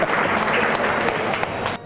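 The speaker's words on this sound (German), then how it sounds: "Applaus für den jungen Mann hier!" Steady audience applause during a comedy brewery tour, dense and continuous at close range, thinning slightly near the end.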